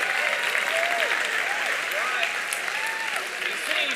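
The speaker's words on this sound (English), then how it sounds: "Can we clap it up can you stand up?" An audience claps steadily and fairly loudly throughout, with voices and a few shouts mixed into the applause.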